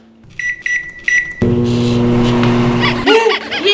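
Microwave oven being set to heat soap, with three short bright keypad beeps followed by a longer tone and the steady hum of the oven starting up, close and loud, ending with a brief clatter.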